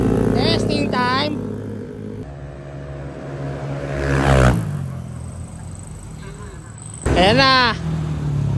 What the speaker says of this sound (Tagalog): Ayan, Tropa, testing mo muna yung motor mo.